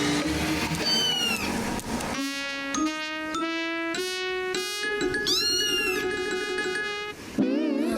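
A cartoon cat meows in a long series of bright, wavering, sliding cries, loud and close, one call running into the next with no pause, over a busy animated soundtrack.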